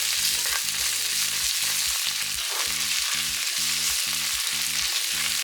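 Tomato paste frying in a stew pot for beef tomato stew, a loud, steady sizzle with a rhythmic low scraping of stirring underneath, close up.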